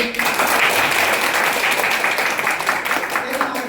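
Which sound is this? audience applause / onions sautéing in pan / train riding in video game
audience applause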